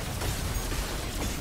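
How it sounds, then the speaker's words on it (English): Grenades exploding repeatedly in a jungle shooter video game, a continuous noisy rumble of overlapping blasts and bursts at loud, steady level. "The amount of fucking grenades!"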